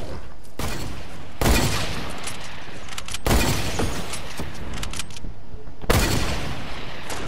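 Bursts of gunfire from a gun in Fortnite crack out in several loud volleys separated by short gaps, dense and close, with rapid repeated shots blending into each burst.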